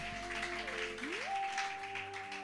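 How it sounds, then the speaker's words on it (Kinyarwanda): A church congregation claps together in a sustained wash of applause, with steady keyboard tones ringing underneath and one note sliding upward partway through. "Shangilia makofi kwa Mungu"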